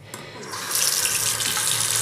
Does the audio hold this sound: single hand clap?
no